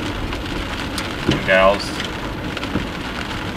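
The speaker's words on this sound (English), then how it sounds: "it's raining with blue skies" Steady rain patters on a car during a drive under blue skies, a constant soft hiss with a brief voice speaking over it midway.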